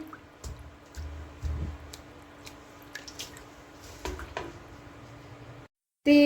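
A wet, dyed scarf squished and rinsed in cold water, with soft drips and splashes coming in bursts, close by, then a short silence before a sudden loud end.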